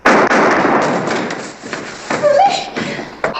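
A single loud, close gunshot cracks in a western film standoff and decays quickly, followed by quieter rustling and movement.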